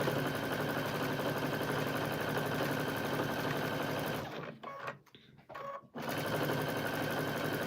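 A sewing machine stitches scraps of batting with a steady, close, continuous whir, which breaks off briefly in short stop-and-start bursts near the end before running smoothly again.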